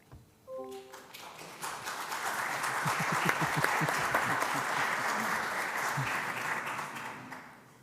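An audience at a town planning board meeting in Plymouth applauds. It starts with a few claps, swells into steady clapping for several seconds, then tapers off.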